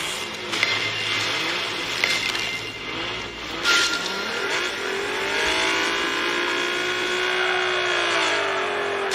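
Car braking into a drift in the racing game Ace Racer: a steady engine drone with tire squeal rising and sweeping through the turn, continuous and fairly close.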